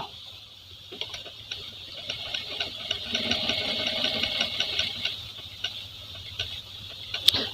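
A Jack A4F sewing machine stitches with a quick mechanical ticking and whirring, a steady rhythm of small clicks over a faint motor hum, close up and fairly quiet, ending with a sharper click.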